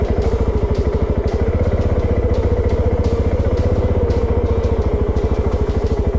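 A Voge 650 DSX motorcycle rides an easy off-road track, its engine thumping in a loud, rapid, even pulse that holds steady from start to finish.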